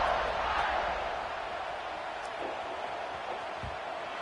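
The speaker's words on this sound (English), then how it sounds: "this crowd now ready to get behind them" A stadium crowd murmurs in the NCAA 26 college football video game before kickoff, a broad, steady roar that swells slightly at first then settles to a sustained moderate hum.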